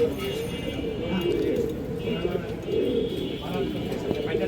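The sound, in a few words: pigeons cooing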